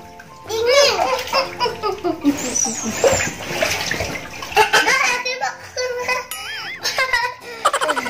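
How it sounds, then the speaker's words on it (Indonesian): A young child splashes and plays in bath water while eating ice cream; sloshing and splashes come in bursts beneath the child's chatter and giggles. "Almara mau makan es krim dulu sambil berenang"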